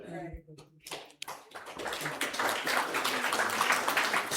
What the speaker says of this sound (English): See, if you wait long enough, they'll clap.